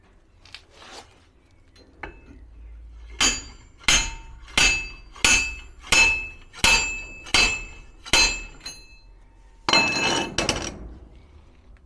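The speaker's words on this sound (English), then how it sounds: "we can use this sliding hammer to actually hit the whole thing here" A sliding hammer strikes metal about nine times while fitting a Fiat 1500 differential, each blow a sharp ringing clank, followed by a longer rattling impact.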